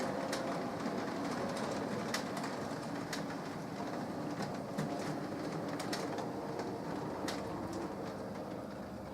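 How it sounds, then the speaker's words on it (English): A model excursion train rolls into a station on a layout, a steady low rumble with faint clicking, accompanied by background bird cooing, fairly quiet and even throughout. "Excursion train arriving at Eindhoven station."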